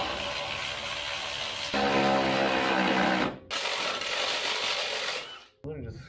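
A power tool chases the threads on a bolt during an Old Man Emu suspension lift install on a first-generation Tacoma, giving a steady loud mechanical whir that cuts out briefly and restarts, with a person talking in the background.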